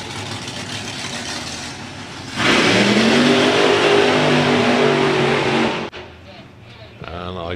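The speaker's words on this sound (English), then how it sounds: "Three 30-foot burnout there for Andy Fadster. Coast up to the 8th" A drag racing car's engine roars loudly and steadily right after a burnout at a nostalgia drag event, sustained for several seconds before cutting off abruptly, with a quieter engine note and announcer talk following.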